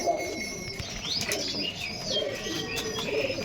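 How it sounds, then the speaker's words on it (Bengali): Domestic pigeons coo in soft, rolling phrases after being let out in the morning, with wing flaps and a few chirps mixed in, close by and steady throughout. "সকালবেলা মর্নিংয়ে আমি আমার পায়রাগুলো ছেড়ে দিয়েছি"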